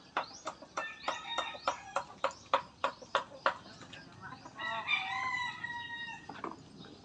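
Rooster crowing on a chicken farm, with a train of sharp clucks and calls leading into a long, loud cock-a-doodle-doo close by, with no voices over it.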